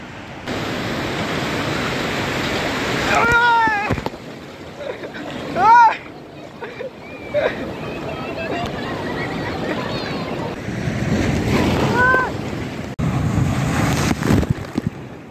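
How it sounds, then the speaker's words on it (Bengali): Big ocean waves roll in at Udaypur beach near Digha, a broad, steady roar of surf mixed with wind buffeting the microphone, with voices talking over it. "এই দেখো বন্ধুরা কি অবস্থা, বিশাল বড় বড় ঢেউ আসছে।"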